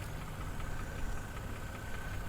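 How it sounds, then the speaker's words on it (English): A salvage-auction car idling on the lot: a steady, low, rumbling engine hum with a faint whine above it, close to the listener and uninterrupted by talk. "the engine sounds really, really good"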